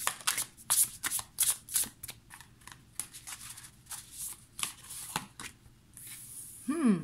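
Tarot cards are shuffled by hand for a reading in a series of quick, crisp riffling bursts and soft slaps, close and fairly quiet, with brief pauses between the shuffles.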